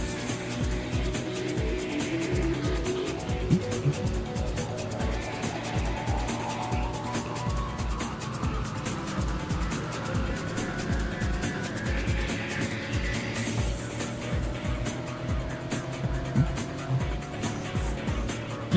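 Porsche race car engines roar continuously in the racing game Need For Speed: Porsche Unleashed, with rising and falling revs, gear shifts and occasional tire squeal running through the whole stretch, loud and steady.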